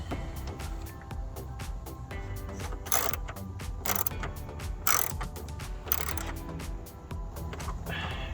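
A clamp on an AFE Super Stock induction system for a 2015-2022 Dodge Challenger is turned clockwise, giving a steady run of close, quiet ratcheting clicks with a few sharper metallic snaps.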